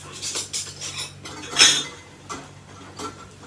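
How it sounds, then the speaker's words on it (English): A metal screw-top band is twisted onto a hot canning jar of apple pie filling in a home kitchen, with several light clinks and scrapes, one sharper click in the middle, and quiet gaps between. "Pop your sealing lid on. And then your screw top."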